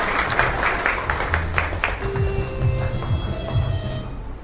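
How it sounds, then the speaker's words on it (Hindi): An audience at an RCM Business seminar claps, a dense steady patter of applause from many hands that carries on for several seconds with a low hum beneath. "ताली बजाइए सर"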